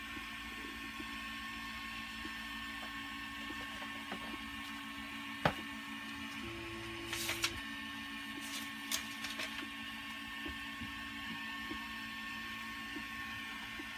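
A Prusa MK2S 3D printer running, giving a faint steady hum with tonal stepper-motor whines that shift partway through, plus a few small clicks, quiet and continuous.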